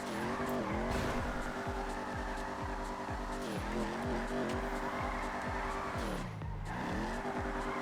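An AE86 drifts in the video game FiveM, its engine droning and revving in steady pulses while the tires squeal continuously through the slide, loud and close, with no talking.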